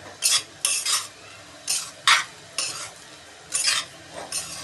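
A spoon stirs sabudana khichdi with added sugar in a pan, giving short scraping strokes in an uneven rhythm, close and clear with no voices.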